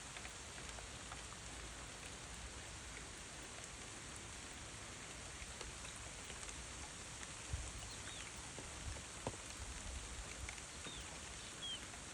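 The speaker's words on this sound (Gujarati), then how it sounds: "ને વરસાદી વાતાવરણ છે" Light rain patters steadily on surfaces, a soft continuous hiss with occasional distinct drops, faint and even throughout.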